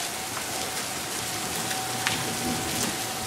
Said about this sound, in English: This is lightning and hail and everything else.